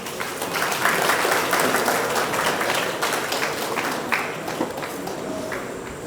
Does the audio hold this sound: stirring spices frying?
no